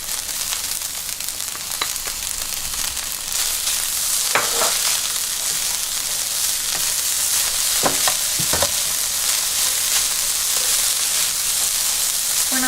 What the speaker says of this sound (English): stir the fried rice because if you leave it alone on high heat, it will burn the bottom